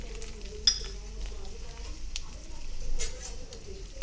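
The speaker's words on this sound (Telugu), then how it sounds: "మిర్చీలు వేసుకున్నాం కదా, ఇప్పుడు పల్లీలు వేసుకోవాలి." Peanuts frying with red chillies in a pan of oil for tamarind pulihora, giving a soft, steady hiss with a couple of brief spatula clinks and scrapes, close by.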